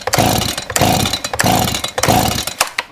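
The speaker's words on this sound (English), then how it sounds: "So I'm going to pull it with the choke off." A STIHL chainsaw with bar oil in its fuel tank is pull-started with choke off and throttle wide open, four loud ratcheting rope pulls in a steady rhythm, close up, without the engine catching.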